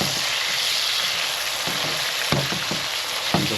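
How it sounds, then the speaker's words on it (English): Vegetables sauté in a hot pan with a steady, dense sizzle throughout, broken by a few sharp scrapes and knocks as they are stirred, for a Jamaican fried pressed green plantain dish with fish. "I'm just going to keep on stirring my vegetables. They'll saute for 2 minutes."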